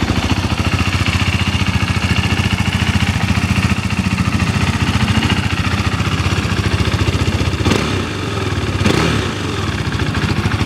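A 2017 KTM 390 Duke with its stock exhaust idles close by in a steady, quiet thrum with an even pulse, and two brief clicks or blips break in near the end.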